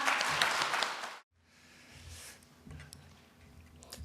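A room of guests claps to welcome the honoree at a 2014 book launch event in Yeoju. A burst of clapping is fairly loud at first, then cuts off abruptly. Faint room noise and murmuring follow.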